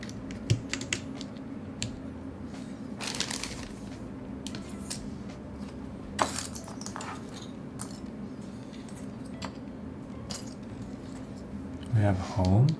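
Keycaps being pressed onto a DK1-TKL mechanical keyboard with modded Gateron Sage switches, scattered light plastic clicks and taps at close range, with a louder clatter at the end while a person talks.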